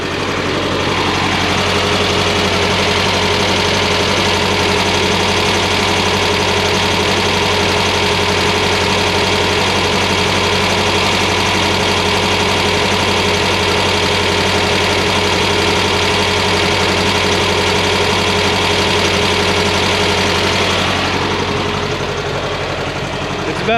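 A Volkswagen engine fitted with a Weber carburetor runs steadily at idle, a loud, continuous low drone with a constant hum and vibration that holds for over twenty seconds before easing slightly near the end.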